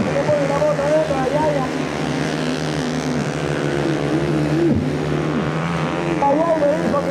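110cc standard-class motorcycles race in a championship final in southern Santa Fe, their high engine whine rising and falling in pitch as they pass, under continuous excited commentary.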